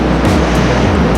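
Rough sea waves at Lingayen Beach in Pangasinan, a loud, dense roar of surf and wind rushing continuously at close range, with no talking.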